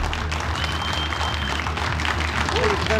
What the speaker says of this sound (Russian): и вновь аплодисменты боксерам!